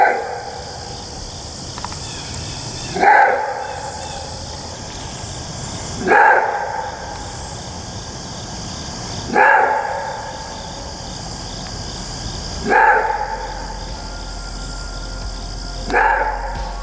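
Loud roaring barks from a long dog ring out one at a time, about every three seconds, each a short harsh burst with a fading tail over a steady insect-like hiss, with no talk.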